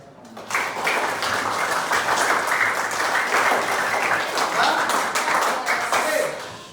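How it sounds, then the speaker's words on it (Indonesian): Classroom applause from students and teacher during a computational thinking lesson, a steady wash of clapping that swells in after a brief pause and holds for several seconds, with faint voices mixed beneath. "tepuk tangan untuk kita semua"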